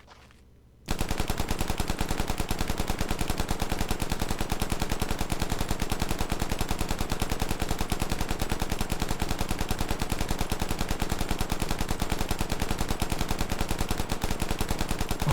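Continuous, rapid automatic fire from a belt-fed American machine gun in Rising Storm 2: Vietnam, a dense unbroken stream of shots after a brief quiet start, loud and close for about fourteen seconds.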